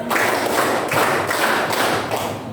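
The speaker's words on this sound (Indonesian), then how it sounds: "tepuk lima" In a classroom, a teacher leads the group in a five-count clap pattern: a run of crisp, evenly spaced claps ringing in a reverberant room.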